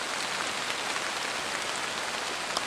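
Pouring rain drums steadily on a woodland shelter in near-freezing weather, a dense, even hiss with no pauses, close and enveloping throughout.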